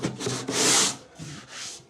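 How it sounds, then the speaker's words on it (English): Rough, scratchy strokes of a sanding block rubbing back and forth on plywood, about four passes, close and fairly loud with no talking. "now I can find my sanding block, which is over here"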